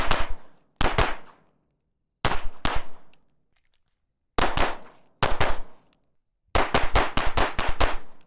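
Gunfire from a firearm fitted with a Vortex Defender-ST Enclosed red dot: loud, sharp shots in paired bursts with pauses, ending in a rapid string of six or seven reports, with no talking.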